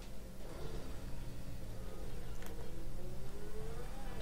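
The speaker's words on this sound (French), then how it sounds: "On entend vraiment le bruit de la voiture." Steady car engine drone in GTA V Online hums continuously at moderate loudness, with a slight rising revving tone toward the end and no talking over it.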